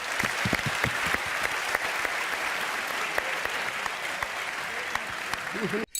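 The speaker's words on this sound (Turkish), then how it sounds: "Alkışlar onlar için." Studio audience on a Turkish television show applauding in a dense, sustained wave with a few sharper individual claps standing out, continuing to the end.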